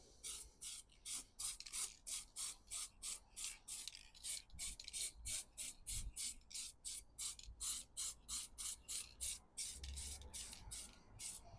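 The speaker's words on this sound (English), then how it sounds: "Spray it on. More coat you put on, more silver it is." Silver spray paint hisses from an aerosol can onto edges in a long series of short, regular bursts, each a crisp close hiss separated by brief gaps, about twenty-five in a row at a quiet level.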